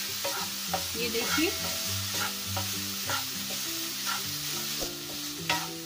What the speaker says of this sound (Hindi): अब ये मैं मावा लूंगी और इसको मैं भूनूंगी।